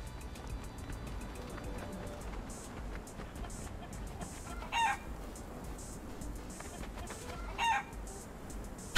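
A rooster in the video game Conan Exiles gives two brief, fairly quiet crows several seconds apart, set against a low steady background rumble of game ambience.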